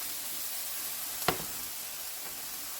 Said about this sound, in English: And you just want to stir fry this.